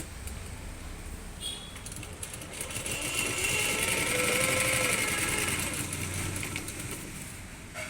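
A sewing machine set to a small stitch runs steadily, its motor hum and rapid needle chatter swelling slightly in the middle, close and continuous with no speech.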